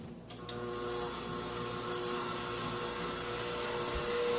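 An electric stand mixer whirs up on its second speed level and runs with a steady high motor whine while kneading yeast dough in a bowl, close and continuous, no talking.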